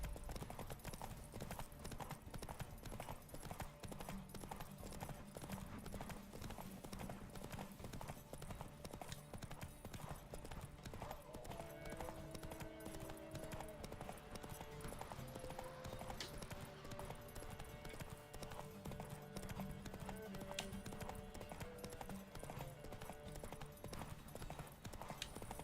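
A horse gallops in The Witcher 3, with rapid, steady hoofbeats throughout at a quiet level and occasional faint tonal game sounds layered over them.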